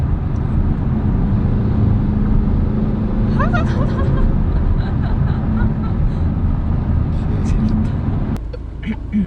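A Peugeot 3008 GT in fourth gear accelerates hard, its engine a loud, steady cabin drone. People talk over it until the roar drops away near the end.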